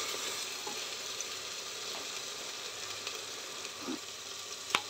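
Vajri, goat tripe, frying in oil in a pan, a steady close hiss and sizzle with small pops and a faint scrape of stirring near the end.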